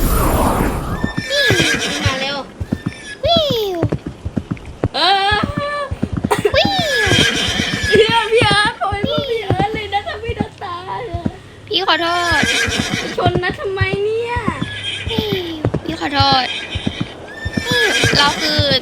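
A horse in a video game neighs and whinnies over and over, loud and close, with clip-clopping hooves and a voice talking throughout.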